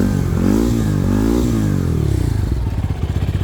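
Jinling 250cc quad bike engine revving close up, rising and falling throttle blips that settle into a rapid, throbbing idle pulse.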